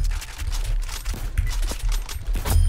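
Repeated close gunshots in the Roblox shooter Aimblox, a steady stream of sharp cracks with low thuds underneath, loud and continuous.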